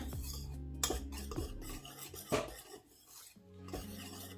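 Flour mixed with two teaspoons of garlic powder being stirred in a bowl for a fried chicken coating, giving a steady scraping, rasping sound with light clinks of a utensil against the bowl, close and alone over faint background music.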